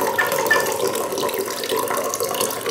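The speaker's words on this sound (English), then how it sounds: "I can also completely open the spigot like most spigots. Continue to pump that water through" Water pumped through an AquaBrick filtration system pours steadily out of its open spigot, a continuous close splashing stream with no voices.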